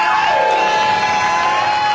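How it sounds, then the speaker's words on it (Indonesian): A TV talk-show studio audience cheers and applauds, a loud dense roar of crowd noise with whoops and shouts riding over the clapping, steady and continuous. "Abah Abimanyu, tepuk tangan dulu dong."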